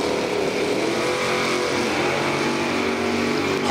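Drag racing cars launching hard off the starting line at Numidia Dragway during Summit ET time trials, a loud continuous engine roar with rising pitch toward the end, no voices over it.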